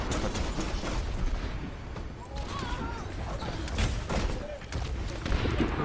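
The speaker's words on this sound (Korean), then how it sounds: "포탑이 열심히 싸우고 있어요" In Overwatch, Torbjörn's automated turret keeps firing amid a busy battle, a dense barrage of rapid shots, mechanical clanks and bursts layered with other gameplay noise and a voice talking over it.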